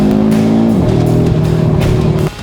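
A 2022 Audi RS3 with a 2.5-litre turbocharged five-cylinder engine accelerates hard on Bahrain roads, its loud, close, raspy drone climbing in pitch and dropping at a gear change, then fading slightly at the end.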